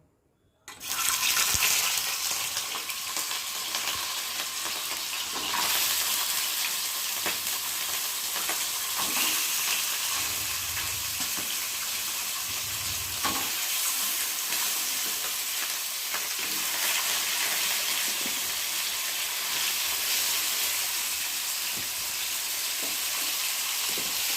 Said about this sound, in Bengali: এবারেই দেখো মাছগুলো আমি একে একে দিয়ে ভালো করে ভেজে নেব